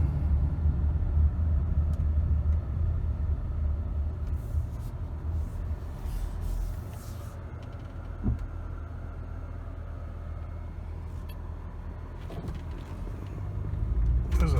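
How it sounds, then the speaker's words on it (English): Interior of a 2007 Toyota Camry Hybrid driving on its gasoline engine, a steady low engine and road rumble throughout with a few faint clicks and bumps, with someone talking intermittently over it. "I think we're running just on the engine right now"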